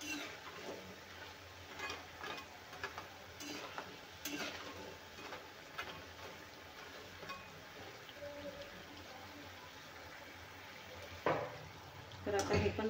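Chokodi dough pieces frying in hot oil, a steady soft sizzle and bubbling that runs throughout, with a few scraping stirs and light utensil knocks, plus a louder clatter near the end.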